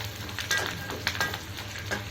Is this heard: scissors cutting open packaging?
no